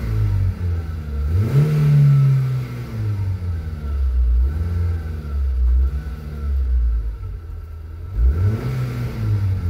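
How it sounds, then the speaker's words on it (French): A car engine with a hesitation under acceleration and a freshly cleaned air filter, idling close by and then revving in several separate rising blips with settled idle between them. "On va démarrer le véhicule maintenant pour voir ce que ça donne. Donc on va le voir à l'accélération"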